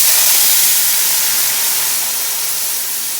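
Loud, steady sizzling hiss of pasta water hitting hot oil while making carbonara, a broad spray-like roar that holds strong for a few seconds and eases slightly.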